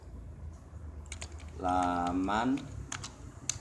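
A computer keyboard typing in Microsoft Word 2010, with scattered close keystroke clicks before and after a short spoken word.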